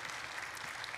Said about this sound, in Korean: 다시 한번 우리 격려의 박수 부탁드리겠습니다.